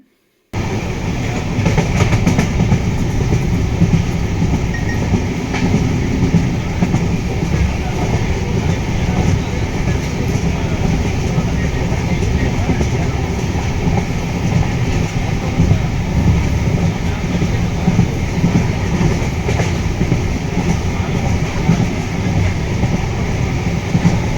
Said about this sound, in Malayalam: ഇപ്പോൾ ട്രെയിൻ വന്ന് നമ്മൾ കയറി